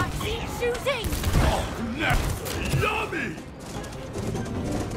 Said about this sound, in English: Am I just aiming and shooting, I guess?